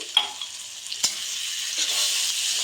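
Mustard spice paste with turmeric and a splash of water fries in a pan: a couple of sharp clinks and pops, then a bright steady sizzle building and holding close.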